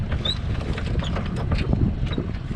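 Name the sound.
sailboat sailing at night in the wind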